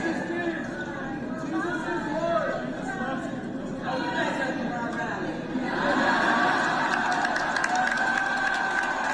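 A crowd at a political rally cheers and chatters, a steady mass of voices with scattered laughter that swells louder and fuller in the second half.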